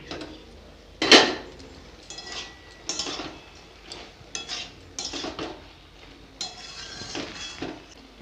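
A metal lid comes off a pot of potato and bean curry with a sharp clank, followed by scattered clinks and scrapes of utensils against the pot, close by and with no voices.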